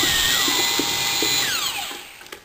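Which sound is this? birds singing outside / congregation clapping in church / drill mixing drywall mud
drill mixing drywall mud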